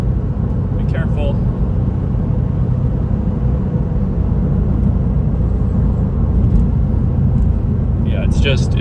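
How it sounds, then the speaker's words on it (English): A 1999 Porsche 911 996, set up as a daily and track car, drones with a steady low engine rumble while driving, heard from inside, with brief voices near the start and end. "I've gotten a lot of comments on how good this car sounds, especially from outside"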